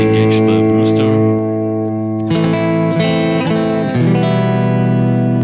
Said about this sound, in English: And if I engage the booster